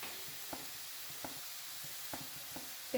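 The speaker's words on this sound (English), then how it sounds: "So let that simmer for a couple of minutes." Chopped onions simmering in a pan for a paneer dish, a soft steady sizzle with a few light scraping stirs spaced through, close and gentle with no talk.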